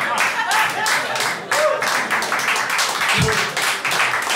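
Scattered clapping from a small comedy-club audience, a handful of people applauding steadily and close by for a few seconds, with a low thump near the end.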